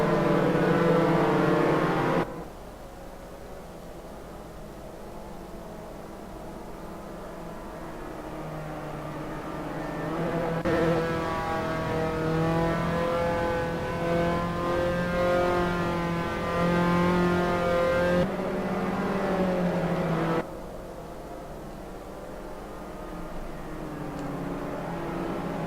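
Race car engines at Paul Ricard in the video game Assetto Corsa, a steady droning whine rising and shifting in pitch through gear changes, loud and continuous.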